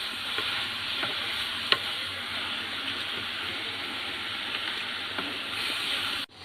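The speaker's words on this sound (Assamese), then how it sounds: "এতিয়া ভালকৈ লৰাই লওঁ।" Bamboo shoot and carrot curry being stirred in a pan, with a steady broadband sizzle and a scatter of light scraping clicks and one sharper knock, fairly close and with no voices.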